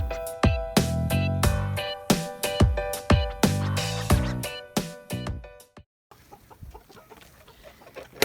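Silkie chickens in a farm coop cluck in a rapid, loud series of sharp calls close by, the clucking breaking off near the end into a quieter stretch.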